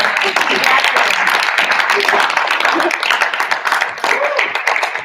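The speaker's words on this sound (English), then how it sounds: "one more round of applause for your" Audience at a high school speech team recognition night applauding steadily, a dense wash of clapping held at a constant level for the whole stretch, with faint voices mixed in.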